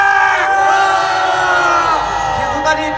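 A large crowd at a Korean political rally roars and shouts together in a sustained, loud collective battle cry that fills the whole stretch.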